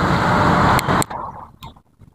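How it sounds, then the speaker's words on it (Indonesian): Motorcycles and cars passing close by on a roadside, a loud broadband rush of traffic that cuts off sharply after about a second, leaving fainter engine rumble and scattered noises. "Dan sini ada sepeda motor dan mobil, karena kita berada di pinggir jalan."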